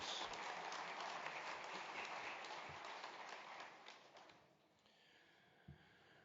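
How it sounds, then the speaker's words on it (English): An audience at a Hall of Fame induction ceremony gives a round of applause, a dense wash of many hands clapping that stays steady for several seconds before thinning and fading out. "let's give the volunteers, the board, and everybody involved with last night another big round of applause"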